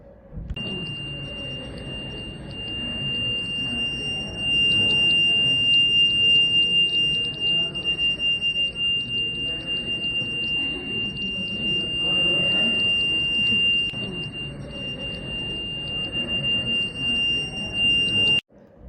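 A piercing electronic buzzer alarm on a smart T-junction traffic control system holds a steady high-pitched tone, sounding continuously over a low background rumble.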